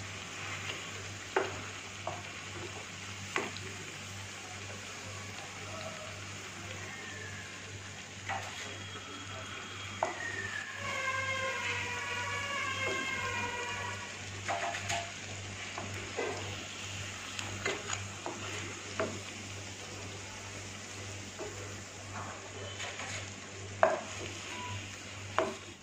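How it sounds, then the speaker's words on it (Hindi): Sabudana vada deep frying in hot oil, a continuous bubbling sizzle with occasional clicks and taps of utensils against the pan, steady and close, and no talking. "इसी तरह से हम बाकी भी बड़े फ्राई कर लेंगे।"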